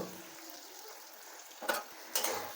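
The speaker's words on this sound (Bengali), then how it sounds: "তারপরে আমি এর মধ্যে দিয়ে দিচ্ছি কাঁচা লঙ্কাগুলো।" Green chillies fry in a pan with onions, a soft continuous sizzle broken by two sharp scrapes of a spatula stirring the pan.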